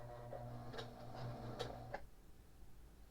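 A Pfaff 140s sewing machine runs quietly, stitching a bar tack back and forth with a soft mechanical whir and a few light clicks, then stops.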